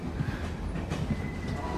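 A train rolling on rails, a steady close rumble with faint clickety-clack and a thin high wheel whine, continuous and alone for under two seconds.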